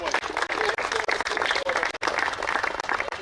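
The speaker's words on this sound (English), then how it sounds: "So big round of applause to this team." A crowd gives a short, brisk round of applause for a team at a society premier league cricket match, tightly packed clapping lasting about three seconds with slight dips in intensity.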